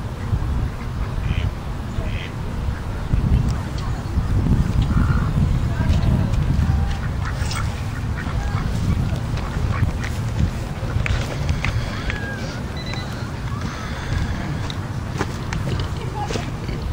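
Duck quacking in an outdoor setting, repeated calls over a busy, continuous low rumble with other background noise.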